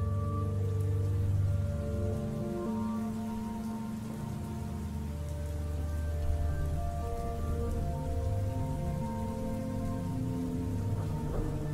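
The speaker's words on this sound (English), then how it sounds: "it has started to rain now" Steady rain falling on surfaces, a continuous dense patter that stays even throughout with a low rumbling undertone and no voices.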